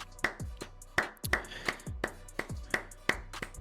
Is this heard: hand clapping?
yes